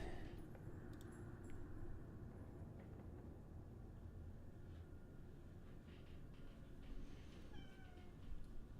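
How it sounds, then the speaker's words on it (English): Cat meowing indoors in a room, a few short meows rising over a steady low background hum, fairly quiet and not close. "Can you guys see either cat?"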